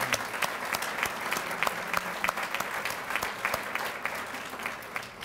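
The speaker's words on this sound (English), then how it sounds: "if we can have one more round of applause for all of these teachers" Audience at a school district Teacher of the Year ceremony applauds the teachers, steady clapping across the whole stretch with a few sharper claps standing out, moderately loud and without speech.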